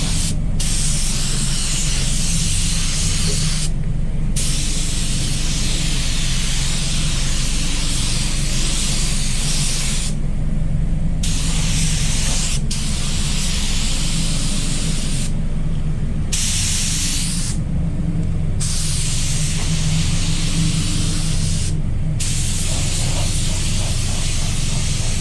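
A Walcom HVLP spray gun lays metallic black BMW 475 car paint in loud continuous hissing bursts, each cut by brief pauses as the trigger releases, over a low hum.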